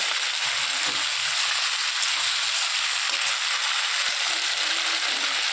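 Tomato and puti fish frying in a pan: a loud, steady close sizzle with a dense crackle that runs unbroken throughout, with no voices over it.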